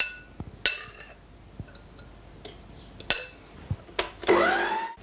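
Cupcake batter with sugar and vanilla sugar being mixed in a bowl for rose and violet cupcakes: scattered light clinks and taps against the bowl, then a short, louder burst of whirring mixing near the end, close and without talk.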